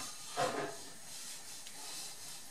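A tuna steak sizzles as it is laid into hot oil in a pan, a brief hissing burst that quickly settles into a steady, soft frying hiss, heard alone without talk.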